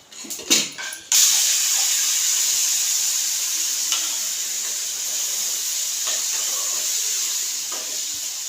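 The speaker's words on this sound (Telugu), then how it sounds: "పోపు అయితే వేగిపోయింది ఇప్పుడైతే ఇందులో వేసేసుకుంటా" Fried tempering (popu) with turmeric is poured into a dish and bursts into a loud, steady sizzling hiss after a few brief clatters, continuing close and unbroken for several seconds.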